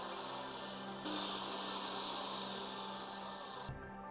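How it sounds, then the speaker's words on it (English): An electric drill boring through a plastic cap for a homemade water pump, a steady whirring grind that jumps louder partway through and then cuts off abruptly near the end. "We'll drill the cap right in the center."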